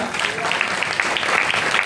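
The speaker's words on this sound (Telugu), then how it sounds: "చప్పట్లు కొట్టండి గట్టిగా." Loud applause from a church congregation at a Christmas service, steady dense clapping throughout with a faint voice underneath.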